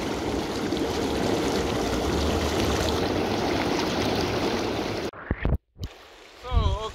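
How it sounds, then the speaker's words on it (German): An Intex PureSpa whirlpool's blower runs under water for about five seconds, a loud, steady bubbling rush. It then cuts out abruptly, leaving a few clicks and a brief voice. "dann schalten wir mal das Gebläse ein und los geht's"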